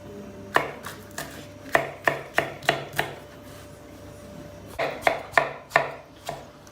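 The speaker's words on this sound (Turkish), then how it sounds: "Üç tane yeşil biber doğruyorum." A knife chops green peppers on a cutting board for an eggplant dish, two bursts of sharp, evenly spaced taps, about six in the first run and five in the second after a short pause.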